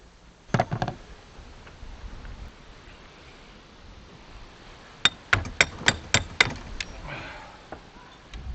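Sharp metallic knocks and hammer-like blows while an old pontoon boat steering wheel and mechanism are removed: one cluster of impacts early on, then a rapid series of loud, close strikes near the end, all over a steady background hiss.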